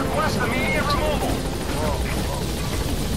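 Helicopter in the video game Metal Gear Solid V: The Phantom Pain, a steady dense rotor roar under in-game radio voices talking throughout.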